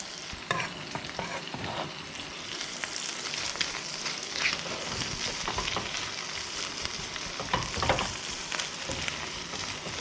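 Roughly chopped garlic frying in a pan for prawn pasta, a steady, close sizzle with occasional stirring scrapes throughout and no talking.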